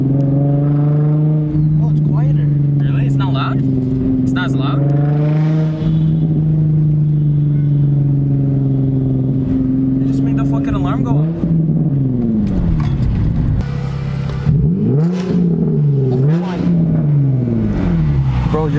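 A Nissan 350Z fitted with a Tomei exhaust idles and revs up close, its deep rumble rising and falling through several blips, with people talking throughout.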